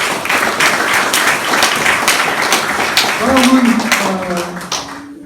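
An audience at a Korean rally or press event applauds a lawyer from a freedom and human rights institute, a dense burst of clapping from a nearby crowd. A voice speaks over it, and the clapping fades out toward the end.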